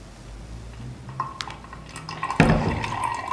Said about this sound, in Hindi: अब इसमें डालेंगे जूस।